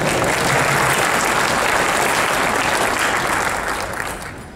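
Audience applause at an Adam Kokesh political talk, a dense, loud, steady wash of many hands clapping throughout with no voices, tapering off slightly at the very end.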